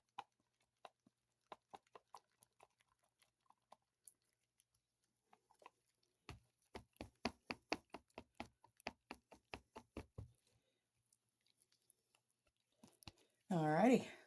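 A mixture stirred in a container, heard as a run of sharp rhythmic knocking and scraping strokes, sparse at first and then fast and steady before stopping, followed by a short burst of voice.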